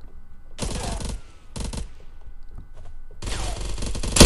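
Bursts of rapid automatic gunfire in the video game Knives Out, three volleys separated by short pauses, loud and close with a dense rattling texture.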